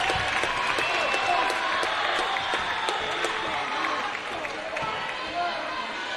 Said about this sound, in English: And the crowd on their feet here in the Davis Fieldhouse.